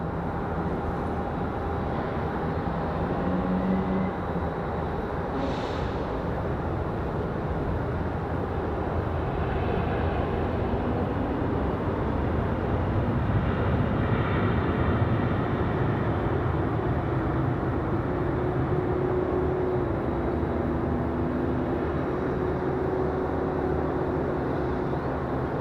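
An airliner on approach to Raleigh-Durham airport runway 5 left rumbles as a broad, steady roar that holds loud throughout, with faint tonal engine whine layered over it.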